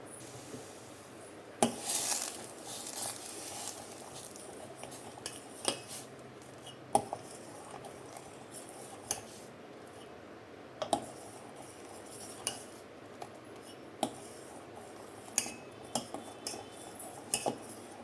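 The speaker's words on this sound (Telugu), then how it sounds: "దీన్ని ఇలా కలుపుకుంటూ ఉండాలి." Bread, cashew and almond paste being stirred into milk in a pan over a medium flame for muskmelon ice cream: a utensil scrapes and clinks against the pan in soft, irregular strokes, with occasional sharper taps.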